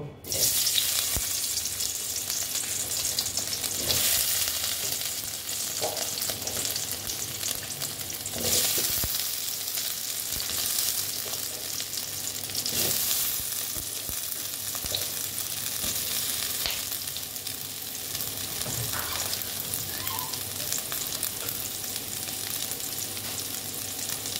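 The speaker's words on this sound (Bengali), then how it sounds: "এখন আমি দেখো আলুগুলো সব ভেজে নেব।" Pressure-boiled, salted potatoes fry in hot oil for aloo dum, a loud continuous sizzle close by with occasional stirring clatter and bursts of spitting, no voices.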